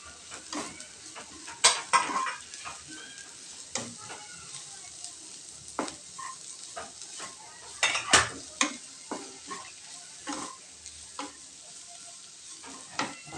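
Chopped spring onion greens hit a hot pan with turmeric for a Vidarbha-Khandesh style eggplant bharit, sizzling and frying close up while a spoon stirs and scrapes in irregular bursts.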